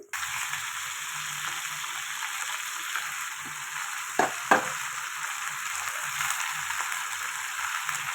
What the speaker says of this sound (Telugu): చికెన్ వేసేద్దాం